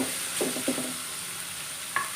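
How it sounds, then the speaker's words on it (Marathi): Onion and chopped green chillies sauté in a pan with a steady, faint sizzle, punctuated by a few soft scraping stirs near the start and one more toward the end. "2 ते 3 हिरव्या मिरच्या चिरलेल्या घालायच्या. चांगलं परतून घ्यायचं आहे."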